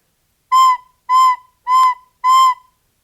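Four separate, evenly spaced whistle-like notes from a wind instrument, each blown with breath alone rather than a tongued start, so every note swells in softly, holds a steady pitch and fades; clear and close with silence between.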